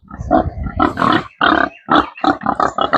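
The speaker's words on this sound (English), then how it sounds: "Good morning, piggies." Pigs on an off-grid farm grunt and oink up close at feeding time, loud, in a quick, uneven series of bursts with brief pauses between them.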